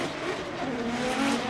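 A Nissan S13 drift car launches from the start line at Formula Drift knockout qualifying, a loud, sustained roar of engine and squealing tires filling the short stretch.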